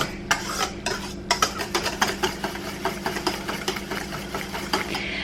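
Salt and other eggs Benedict sauce ingredients being mixed together, a spoon or whisk clinking and scraping against the dish in a quick, uneven rhythm, close and fairly loud under a steady low hum.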